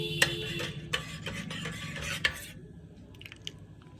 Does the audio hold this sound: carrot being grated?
no